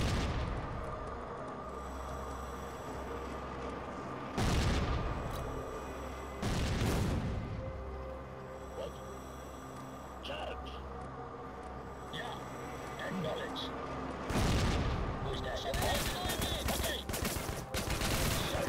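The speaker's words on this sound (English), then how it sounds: "Use the flak cannons to shoot them down." Flak cannons fire at incoming missiles in Rogue Trooper Redux, with heavy booming bursts separated by quieter stretches, including a longer rapid volley near the end, and a voice talking between the shots.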